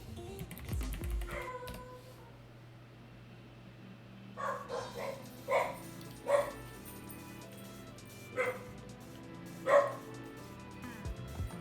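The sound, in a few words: dog barking, maybe at pizza delivery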